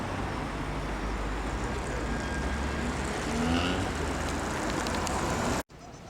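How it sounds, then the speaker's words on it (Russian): Cars drive along a street in the centre of Torez, a continuous low rumble of passing traffic with a slight swell midway, heard up close with no talk. "Машины ездят."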